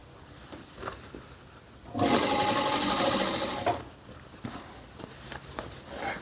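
A sewing machine stitches a fabric tote bag in one loud, steady run of about two seconds, between quieter rustling and handling of the cloth.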